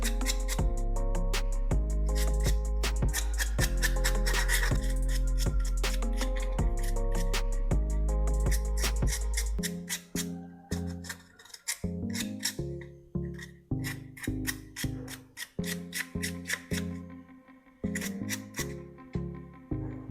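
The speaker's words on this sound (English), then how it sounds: "Next, I'll use some sandpaper to fully polish the soldering tip." Sandpaper is rubbed against a rusty soldering gun tip in quick, repeated scraping strokes, first dense and continuous, then in separate rhythmic passes.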